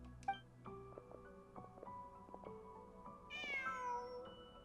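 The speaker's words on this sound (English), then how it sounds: "Just a cat." A cat in Genshin Impact gives a single rising meow near the end, heard over quiet in-game ambient music with soft sustained tones; no talking.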